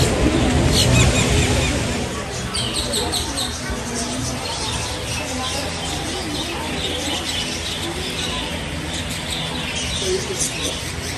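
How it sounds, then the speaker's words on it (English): At Gatorland, an alligator park, birds chirp steadily in high, scattered bursts over a busy outdoor backdrop of crowd babble, with people talking nearby throughout. "And you see these birds, you see these birds ride the alligators."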